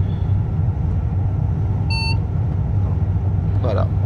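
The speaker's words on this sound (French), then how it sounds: "la VACMA un peu bizarre, c'est une annonce, une sonnerie comme les trains anglais" A VACMA vigilance alert chime sounds once in the cab of a Ouigo train in Train Simulator 2016: a short bright electronic tone over a constant low rumble of the moving train, with a voice speaking briefly afterward.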